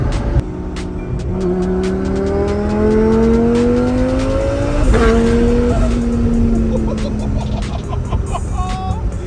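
A twin-turbo Lamborghini Gallardo engine revs up and down with rising and falling pitch, and a single sharp exhaust pop cuts in midway during a gear shift.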